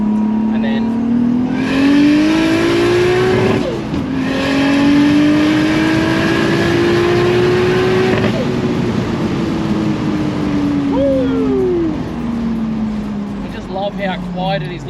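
A car engine hums steadily as it drives. Its tone rises and falls smoothly with speed. The engine is quiet and continuous, with possible voices over it.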